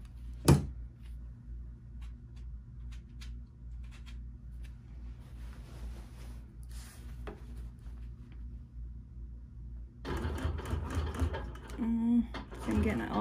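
A sewing machine free-motion quilting around the outline of a star shape, a steady close mechanical hum and needle rhythm that runs throughout and grows busier toward the end, with no talking.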